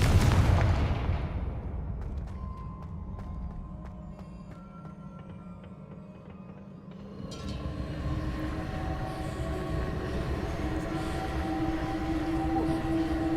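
A big fiery burst from the Confringo spell in Hogwarts Legacy booms loudly at the start, then a rumbling, clanking blast texture fades and swells again with metallic ringing tones.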